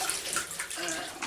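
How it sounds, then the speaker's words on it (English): Running tap water pours steadily as hands are washed at a kitchen sink, a soft continuous hiss and splatter heard close up for a brief moment. "Just got to wash and dry my hands"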